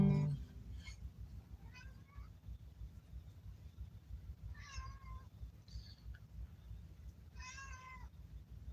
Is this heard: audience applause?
no